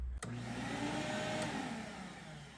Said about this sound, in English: Just a cord that runs to the back that turns on the dust deputy and shop vac.